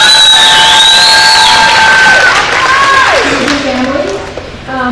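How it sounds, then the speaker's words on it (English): Audience at a cheerleading team awards banquet applauds and cheers for the cheer coach, a steady wash of clapping and shouts with a few raised voices carrying over it, tapering off near the end. "so please give her a round of applause"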